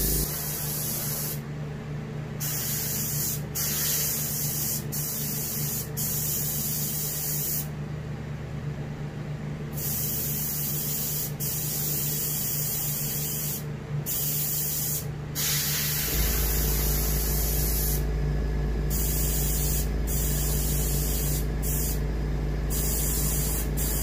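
Thinned off-white paint sprayed from an airbrush onto the belly of a muskie taxidermy fish, hissing in short bursts and longer steady passes, close and continuous, no talking.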